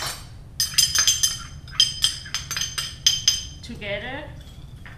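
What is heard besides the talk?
mixing fish sauce, lime juice, sugar and chili in bowl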